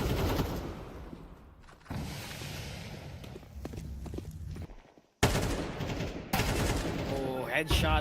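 Rapid gunfire rattles through a Counter-Strike esports match, bursts of shots and impacts ringing out with a brief cut to silence midway, under excited casting voices.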